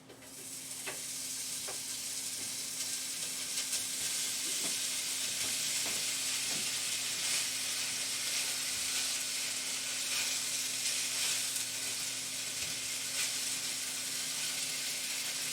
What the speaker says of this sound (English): put our meat here in the frying pan very carefully